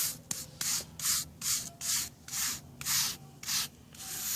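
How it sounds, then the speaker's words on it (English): A brush sweeps sand into a crack in a concrete driveway, making eight rhythmic, scratchy back-and-forth strokes close to the ground, with no talk. "I'm going to use the brush, this brush."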